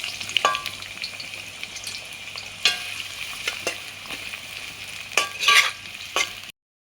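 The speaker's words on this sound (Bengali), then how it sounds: "তেল গরম হয়ে গেছে, এবারে পেঁয়াজটা এর ভিতর ঢেলে দিচ্ছি।" Chopped onion hits hot oil in a pan for aloo kosha, a potato curry, and sizzles continuously while a spoon scrapes and clinks against the pan in sharp bursts. No one speaks.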